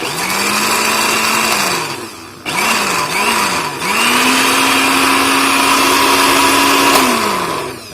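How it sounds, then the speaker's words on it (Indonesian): A loud Miyako kitchen blender motor whirs steadily grinding spices, briefly pausing and pulsing before spinning up again and running on, then winding down. "itulah dia tes dari produk blender Miyako"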